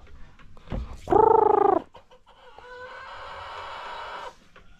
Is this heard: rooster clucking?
yes